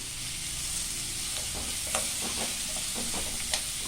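Peanuts and roasted gram sautéing in a pan make a steady, soft sizzle. Scattered light clicks and scrapes of stirring run through it, with no voices.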